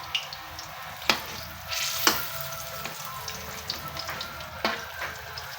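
Ripe bananas fry in oil in a pan with a soft continuous crackling sizzle, punctuated by a few sharp pops and light utensil taps, close and alone.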